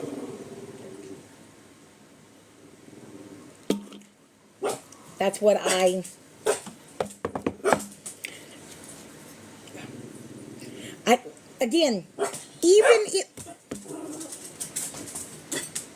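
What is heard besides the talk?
small dog whining and barking for attention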